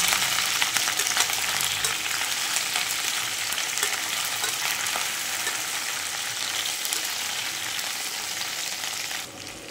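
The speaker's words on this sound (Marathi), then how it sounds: "आता आपण आपल्या मिरच्या कलसून घेऊया।" Chilies sizzling in hot oil in a pan with curry leaves, a steady dense frying hiss that holds at an even level for nearly ten seconds, then cuts off abruptly.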